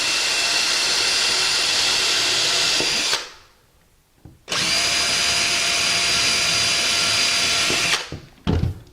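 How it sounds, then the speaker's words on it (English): A pneumatic flooring nailer driving nails through the tongue of hardwood floor boards, heard as a loud sustained hissing, whining burst, a sudden cutoff into near silence, then a second long burst and a short final blast. "you're going to nail it through the tongue"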